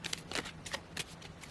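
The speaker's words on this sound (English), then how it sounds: "One last shuffle." Rune cards shuffle close up in quick, soft papery riffles, several short bursts of rustling and flicking in a quiet room with faint background hum.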